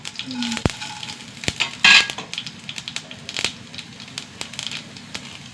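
Mustard seeds and urad dal crackle and sizzle in hot oil, with a steady frying hiss broken by sharp pops and a few clinks of a utensil against the pan, close and alone with no talk.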